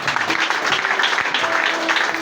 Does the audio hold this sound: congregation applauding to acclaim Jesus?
yes